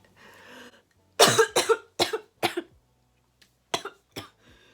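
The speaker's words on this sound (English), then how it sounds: "I've just had a really bad coughing fit" A harsh coughing fit up close, one burst of several hacking coughs, a pause, then two more coughs, with a faint murmur at the start.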